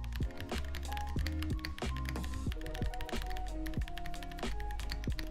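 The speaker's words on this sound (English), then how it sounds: "Summit keyboard is just a higher end keyboard that they offer and this thing sounds fantastic" Steady, crisp typing on a Higround Summit mechanical keyboard, close and clear, with quick irregular keystrokes and occasional heavier thocks, no talking.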